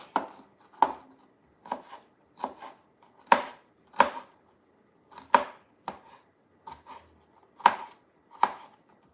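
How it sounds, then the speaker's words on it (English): A knife dices jalapeno on a cutting board in a series of crisp, distinct chops at an uneven, unhurried pace, close and clear with no talking. "A little bit of jalapeno diced, like so."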